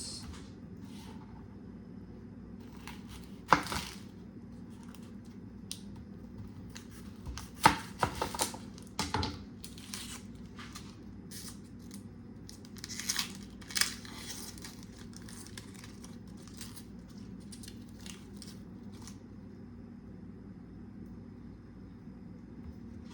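Sweet onions are sliced with a knife on a cutting board, giving a handful of sharp, separate chops spread over a quiet, steady background hum.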